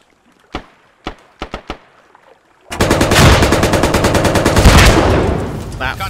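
Gunfire in a tactical multiplayer squad shooter video game: a few separate sharp shots first, then a sudden sustained automatic burst of rapid, loud fire lasting several seconds, with faint voices nearby.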